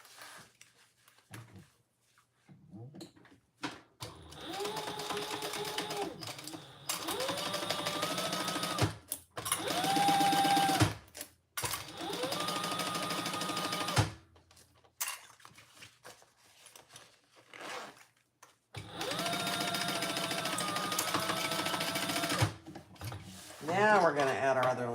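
A sewing machine stitches a lining piece onto a fabric travel pouch in several bursts of rapid whirring, separated by pauses with fabric handling and clicks; the machine runs up close.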